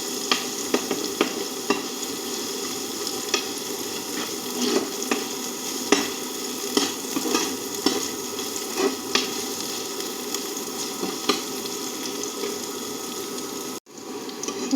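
Curry leaves are stirred into a brinjal stir-fry in a pan, with a continuous close sizzle and repeated spatula scrapes and clacks, ending in a brief pause.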